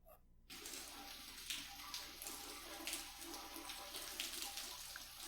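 A shower runs in a video game, a steady broadband hiss of falling water that starts after a brief silent moment and continues evenly, with faint fluctuations and no talking.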